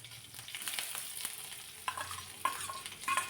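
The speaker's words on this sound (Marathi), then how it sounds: "एक मध्यम साईजचा कांदा बारीक कट करून यामध्ये घातला आणि जास्ती लालसर होईपर्यंत परतायचा नाही, थोडासाच परतून घ्यायचा आहे." Finely chopped onion sautéing lightly in a pan, a soft sizzle broken by scraping stirs and small clicks of a utensil, fairly quiet and close, with no talking.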